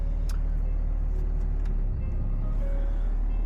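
A truck rolls along on its first drive with a newly installed steering kit, a low, steady engine and road rumble with a few faint knocks and clicks.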